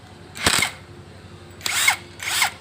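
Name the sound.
power tool loosening upper bolt of car shock absorber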